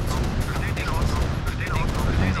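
Rapid gunfire aimed at a harvester in the C&C Remastered strategy game, dense and continuous bursts of shots mixed with explosions, loud and close throughout.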